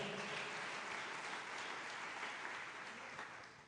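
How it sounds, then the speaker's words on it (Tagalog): A congregation applauds God during an extravagant-worship sermon, steady dense clapping filling the room and fading slightly toward the end. "Lahat ng gusto sa kabutihan, pumalakpak ng malakas sa Diyos."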